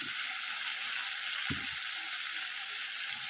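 Sliced round potatoes and a carrot fry in hot oil, giving a steady, close sizzle that runs without a break. A couple of low knocks from the pan or utensil come in between, and nobody speaks.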